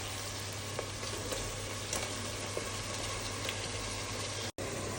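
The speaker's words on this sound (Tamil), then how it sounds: "தக்காளி போடுறேன்." Tomatoes hitting hot ghee and masala in a pan give a steady, close sizzle of frying that holds evenly throughout, with a few small pops and a brief dropout near the end.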